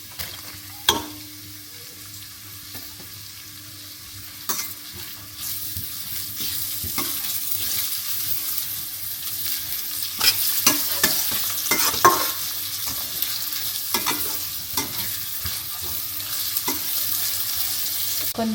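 Onions frying for chicken curry, sizzling in hot oil while a spoon stirs and scrapes the pan, the hiss building gradually with scattered sharp clinks and scrapes close by.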